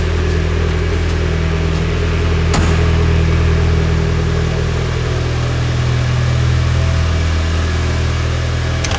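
A Mitsubishi Lancer Evolution 7 GSR idles steadily with a deep, even engine drone up close, a constant loud hum that holds for the whole stretch with no revving or voices.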